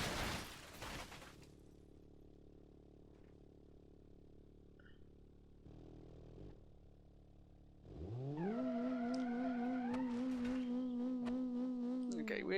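Car in BeamNG.Drive, already damaged at the rear left wheel, roars as its engine revs up hard with a rising, loud drone and harsh scraping bursts near the end, after a quieter rumbling stretch and a brief clatter early on.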